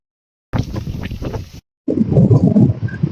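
Heavy wind buffets a tent in a forest at night, loud rough gusts roaring and flapping close by in two bursts separated by a brief silence.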